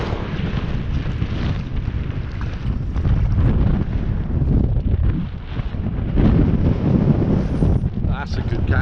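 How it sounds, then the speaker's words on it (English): Strong winter wind at a UK stillwater fly-fishing lake, buffeting the microphone as a steady, loud, low roar and rumble that holds for the whole stretch with gusts rising and falling. "Right, now we're in the wind."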